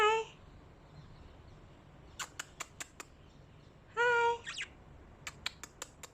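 Pet lovebirds at home give a few sharp, loud squawks and bursts of short, rapid chirps separated by quiet gaps, heard close up, with a brief spoken greeting.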